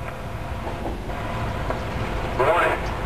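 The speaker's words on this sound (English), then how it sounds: "Warning, a train is approaching the crossing." A SEPTA Silverliner V test train nears a level crossing around Lansdale and North Wales, Pennsylvania, as a low steady rumble, while a recorded crossing warning voice speaks over it.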